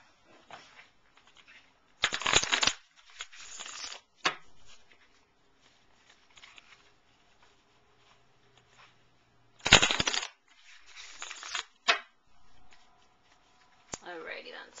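Tarot cards are shuffled in several brisk riffling bursts separated by quiet pauses, close up.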